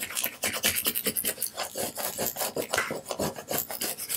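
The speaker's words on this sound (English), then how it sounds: "Okay, so now I'm going to burnish this all down." A Cricut vinyl decal on a wooden Easter bunny craft sign is burnished down, giving close, steady rasping rubs in a quick back-and-forth rhythm with no talking.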